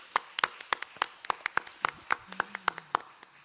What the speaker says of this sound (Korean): 예, 감사의 박수 한번 할까요?